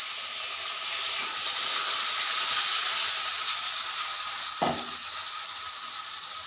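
Onion paste fries in a pan over a medium flame, giving a steady, loud hiss and sizzle that swells slightly after the first second and carries on evenly, with one brief knock midway and no talking.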